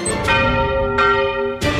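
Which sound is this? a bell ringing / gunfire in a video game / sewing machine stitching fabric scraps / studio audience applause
a bell ringing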